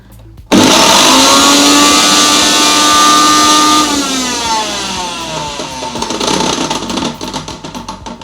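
An 800-watt Havells Power Hunk mixer grinder starts abruptly and runs at a loud, steady whine, its motor pitch sliding down midway and then settling into a rougher hum until the end.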